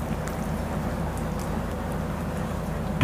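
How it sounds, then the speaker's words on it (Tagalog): Steady, even rain hiss with a low rumble underneath and no voices, ending in a brief bump. "naririnig niyo ba guys? Umuulan."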